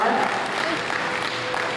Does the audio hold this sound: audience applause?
yes